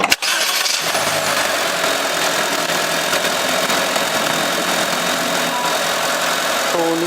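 A 2025 Honda Amaze four-cylinder sedan engine cranks and starts at once, then settles into a steady, even idle heard up close with no talking.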